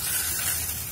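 A spray bottle mists water onto a captive owl to bathe it, a short steady hiss of fine spray close up, continuous and without talk.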